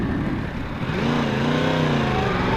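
2016 Yamaha R1S motorcycle engine revving while riding, a loud close engine note with pitch climbing steadily over wind rumble, no talking.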